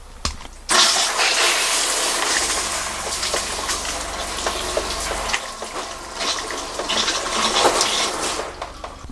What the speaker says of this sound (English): You'll see our shower head has 3 different settings between spray and showers.